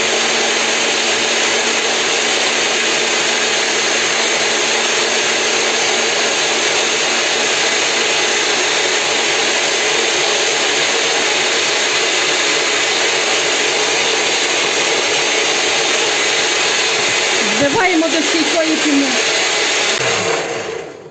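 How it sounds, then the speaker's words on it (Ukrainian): Egg whites with a pinch of salt beaten to stiff peaks by an electric mixer, a loud steady whirring drone that runs unbroken for about twenty seconds, with a brief clatter near the end as the beaters shift. "збиваємо до реклого снігу"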